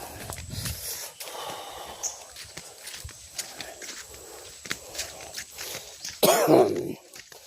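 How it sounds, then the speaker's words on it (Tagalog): Scattered hoof clops and light knocks, then a single harsh, loud cough near the end, heard close by. "Pero ang ubo hindi pa rin nawawala."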